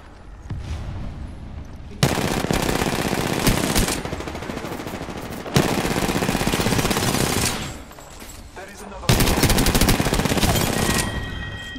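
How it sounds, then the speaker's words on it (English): A shooter video game with loud, sustained automatic gunfire comes in long, dense bursts separated by brief pauses, each burst hammering rapidly and close at hand. "I'm taking shots."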